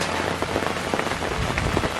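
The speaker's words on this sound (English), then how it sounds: "we are barbecuing in the pouring rain" Pouring rain during a lakeside barbecue: a dense, steady patter of raindrops drumming on a nearby surface, close and fairly loud, with no voices.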